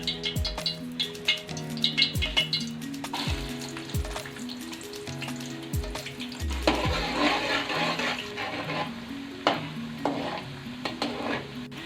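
Chopped onions hit hot oil in a kadai and fry with a loud, steady sizzle, while a spoon scrapes and stirs through them in repeated strokes, metal knocking the pan now and then.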